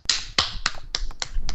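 Sharp hand claps sound in quick succession, about six distinct smacks, close and crisp, with irregular spacing and brief decays between them.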